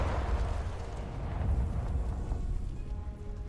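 Artillery fire in the World War II strategy game Sudden Strike 4 lands as a deep, rumbling explosion that rolls on and slowly fades over a few seconds, with no talk over it.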